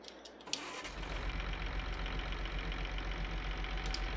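A Rakovica tractor engine in Farming Simulator 22 cranks and catches, then settles into a steady, droning mid-pitched idle that runs on without pause.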